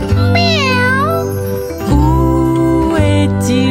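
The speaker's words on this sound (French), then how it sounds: "Il a dit miaou." A cat meows repeatedly and loudly up close, several drawn-out, wavering mews one after another over steady background music.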